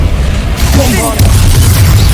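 Bombarda blasting spell going off in Hogwarts Legacy, a deep booming burst over continuous low game rumble and combat noise, with a voice calling out over it.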